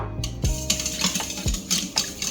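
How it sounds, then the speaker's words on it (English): A whisk beats an egg yolk and milk mixture in a bowl for a vanilla chiffon cake, giving quick, close metallic clinks and scrapes against the bowl. "whisk everything together."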